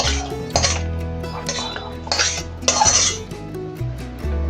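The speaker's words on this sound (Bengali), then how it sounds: "এবার ডালটা ঢেলে নেব" Boiled dal poured out of a metal pot into a vessel, with close clanks and clinks of cookware and utensils over a soft pouring wash, a few louder knocks along the way.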